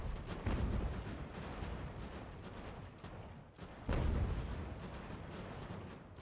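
Artillery fire in the Ultimate General: American Revolution strategy game, a continuous rumbling barrage of booming cannon shots with two heavier swells, steady and dense throughout with no talk.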